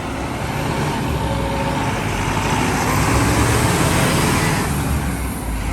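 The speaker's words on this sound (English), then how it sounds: "Okay, these are the buses that I'm talking about." City buses and other heavy vehicles rumble past in dense street traffic in the Barrio Doce de Octubre neighborhood, a steady loud roar of engines with no break.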